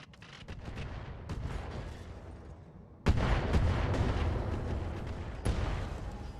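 Mech weapons fire and explosions in the video game Roguetech: a dense barrage of booming shots and blasts, with a sudden loud detonation midway followed by sustained heavy firing and another sharp burst near the end.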